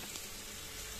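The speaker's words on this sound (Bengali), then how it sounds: "পটলগুলো এখানে ভাজা হোক" Pieces of pointed gourd sizzle steadily in hot oil in a pan, a continuous close, even frying hiss with no voices.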